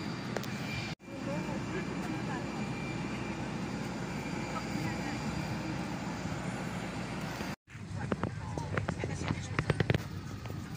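A Wizz Air jet taking off from Larnaca bound for Sofia, heard from inside the cabin as a steady, loud broadband engine roar that holds for several seconds, cut by two brief dropouts, with some faint talk mixed in.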